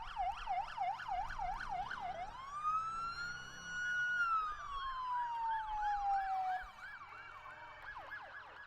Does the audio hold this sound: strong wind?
no